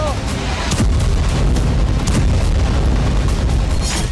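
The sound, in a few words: explosions from Israeli airstrikes on Houthi targets in Yemen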